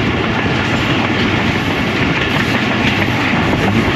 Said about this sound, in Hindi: ट्रेन हमारी बगैर रुके इसी स्पीड के अंदर कालूवाल रेलवे स्टेशन से गुजर जाएगी